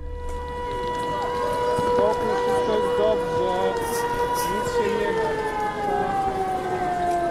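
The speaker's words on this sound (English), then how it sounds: "Air raid sirens like the one you just heard have pierced the skies over Ukraine every day since the war began a year ago." An air raid siren in wartime Ukraine wails steadily in the open air, its long sustained tone slowly falling in pitch, with faint background noise beneath.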